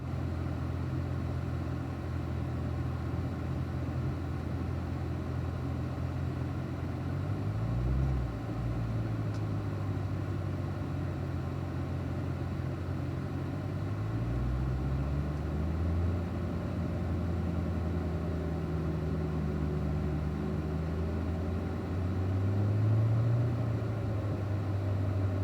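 A car engine idles and pulls away slowly in first gear through a parking lot, a steady low rumble with pitch rising and falling gently as it creeps along at low speed.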